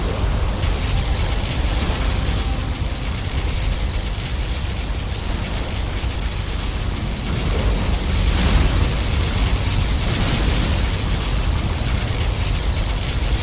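A particle cannon fires in Command & Conquer Generals Zero Hour, producing a loud, continuous roaring blast that holds steady for over ten seconds with a dense, noisy texture.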